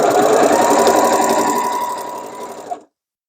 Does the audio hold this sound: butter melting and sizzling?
no